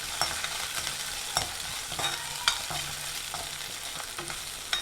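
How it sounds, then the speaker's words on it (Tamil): Ginger, green chilies and curry leaves sauté in hot oil in a pan, a steady close sizzle with soft scraping stirs and light clicks of the spoon at intervals, no speech. "நல்லா வதக்கிக்கோங்க"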